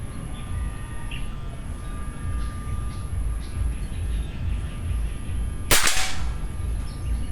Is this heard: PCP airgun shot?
yes